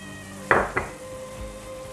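Minced meat filling with spices being stirred in a pan over a steady low sizzle, with two sharp scraping clatters of a utensil against the pan early on, then quieter frying.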